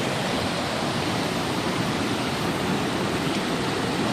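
Rushing water fills a creek crossing on a bush walk in the Binna Burra area, a steady close wash of flowing stream with no breaks and no talking.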